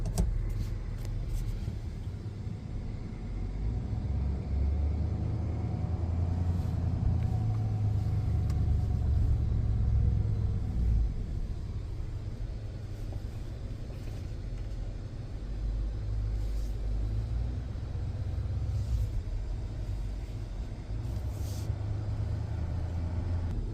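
A 2024 GMC Denali HD pickup with a Duramax diesel engine rumbles steadily while pulling a trailer out onto a driveway, with a low continuous engine drone heard from inside the cab and no talking.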